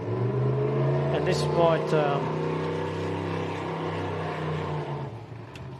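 Race car at the Gundy 500 accelerating hard from the start, a loud sustained engine roar with rising harmonic sweeps as it gains speed, heard under a commentator's voice.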